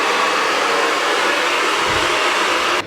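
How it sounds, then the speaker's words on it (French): A hand-held hair dryer runs continuously at full blast, a loud, steady close-range whoosh that cuts off at the very end. "j'ai pris un sèche-cheveux pour ça"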